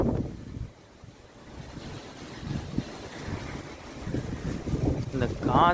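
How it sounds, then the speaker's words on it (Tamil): Strong wind blowing under heavy rain clouds before a storm, a steady low roaring rush with buffeting gusts on the microphone that swell toward the end, with no voices. "சரியான காற்று."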